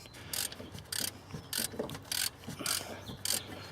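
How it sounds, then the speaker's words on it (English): A ratchet clicks in short repeated bursts while working on the oil pressure sensor of a 2000 Dodge/Plymouth Neon, giving crisp close pawl ticks about every half second against a quiet background. "pull off your ratchet"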